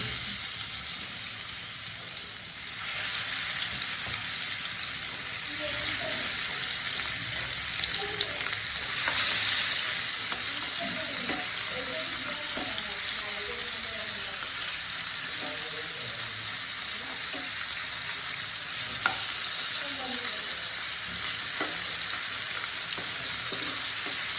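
Baim eel fish frying in hot oil in a pan for a coconut-paste curry, a steady loud sizzle with crackles and occasional stirring scrapes running throughout, no talk.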